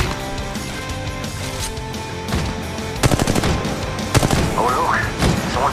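Rapid bursts of automatic gunfire from Apex Legends Mobile, loud and dense with repeated sharp volleys and shots from more than one weapon, layered over game music and effects, heaviest in the second half.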